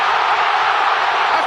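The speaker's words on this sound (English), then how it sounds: "A crowd!" Stadium crowd noise from a FIFA match between Mexico and South Africa, a loud steady roar of cheering fans swelling after a goal, dense and continuous with no pauses.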